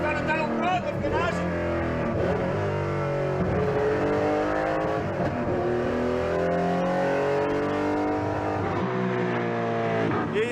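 Rally car engine with a free-flow exhaust, a Porsche 911 being driven hard, roaring and revving continuously with shifting pitch and loud under talk throughout.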